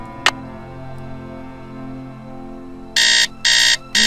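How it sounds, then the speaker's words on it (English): An alarm clock goes off with three loud, harsh electronic beeps in quick succession after a single earlier click, close and dominant over a faint background hum. "Set the alarm."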